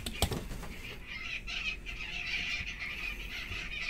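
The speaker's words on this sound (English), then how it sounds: "Can you hear the birds?" Birds call outdoors at a distance, with faint, repeated chirps and twitters running through a soft, noisy background and a few knocks near the start.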